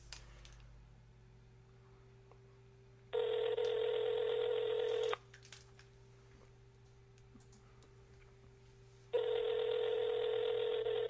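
Two steady electronic tone bursts, each about two seconds long, sound from a phone being used to call back a caller on a talk show. Quiet background, no talk.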